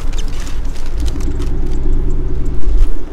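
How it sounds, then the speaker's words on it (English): Mercedes G-Wagon driving at speed, a steady loud low engine and road rumble filling the cabin throughout, with a heavier surge near the end. "I'm gonna drive very fast so the ice cream blows up on Sarkis"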